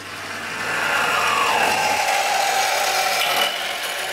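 A metal-cutting band saw with a coolant pump cuts through steel, giving a steady rasping, grinding hum over a low motor drone, loud and close, that eases off near the end.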